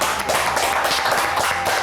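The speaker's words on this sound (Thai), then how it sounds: "ขอเสียงปรบมือด้วยครับ" Applause from a studio audience on a Thai home-makeover show, a steady dense patter of many hands clapping throughout, fairly loud and continuous with no pauses.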